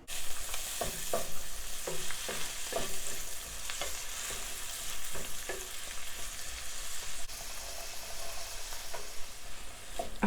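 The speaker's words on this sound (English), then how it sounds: "Cook and stir for 10 minutes or until the vegetables are nice and tender." Onion and celery fry in butter in a pan, a steady soft sizzle under repeated spoon stirs and scrapes, heard close with no talking.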